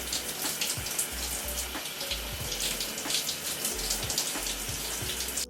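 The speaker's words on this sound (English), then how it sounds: "now I'm going to jump in the shower to clarify." A shower runs steadily during a hair wash, giving a continuous close hiss of spraying water with light splashes and patters throughout and no voices.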